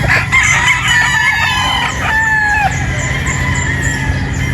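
Young gamefowl cockerels crow loudly and close by at a breeding farm, several overlapping cock-a-doodle-doo calls rising and trailing off over a constant background hum, with no one speaking.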